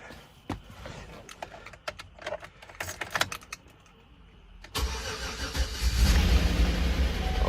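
Gen 4 LS 5.3 V8 with the DOD/AFM delete cranks over after scattered clicks and handling noises, then fires into a loud, steady, rumbling idle close by that holds to the end.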